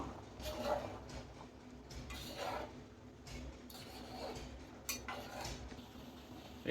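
Old-style fish curry with peanut paste is stirred in a pot, soft scraping and clinking of a spoon against the metal coming in several uneven strokes, faint and close.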